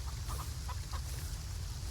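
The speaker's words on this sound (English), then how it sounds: "watch what happens when you see the other chickens over there" Chickens on a farm in the Farm Together 2 video game give a few faint, short clucks in the first second, then only a low steady background hum remains.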